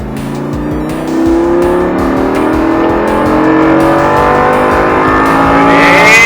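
A Lamborghini accelerates hard out of a curve on a track, its engine note climbing steadily in pitch as it revs up, loud and close, with no talking.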